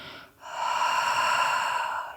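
A slow breath out through the mouth during a yoga session, a short intake followed by one long, steady, close exhale lasting nearly two seconds.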